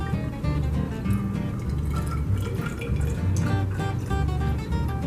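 Liquid, 1 molar hydrochloric acid, pours steadily into a cup, giving a continuous close trickling and splashing that fills the whole stretch without pause or speech.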